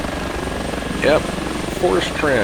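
Airbus H145 helicopter in X-Plane 11, a steady rhythmic rotor thump and engine whine running continuously beneath a man's brief spoken remarks.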